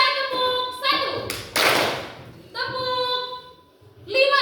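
A school class clapping a numbered clap pattern on a teacher's cue, a burst of children's claps in the middle, framed by chanted children's voices before and after.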